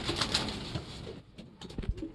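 Pigeon with a red leg ring cooing loudly in a loft, repeated calls close by with rustling and faint bird activity around.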